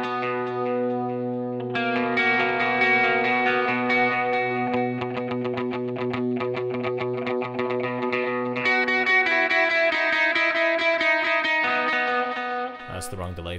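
An electric guitar plays sustained chords, then fast rhythmic strums, all with a shimmering, swirling chorus effect; no talking.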